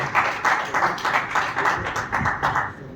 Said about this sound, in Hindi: तालियां इसके लिए एक बार।